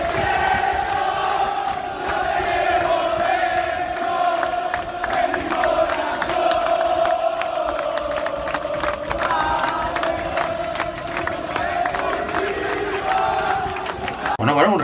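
Football fans of Las Palmas greet their team bus with loud, sustained crowd cheering, chanting and whooping, a dense roar from a large gathering that holds steady throughout, with sharp claps and shouts poking through near the end.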